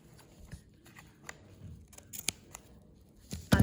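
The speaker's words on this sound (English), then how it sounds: "We just literally follow the line of the pattern and cut them out like so." Scissors snip through sewing pattern fabric in a quiet room, a series of soft, irregular cuts building to a few louder crunchy snips at the end.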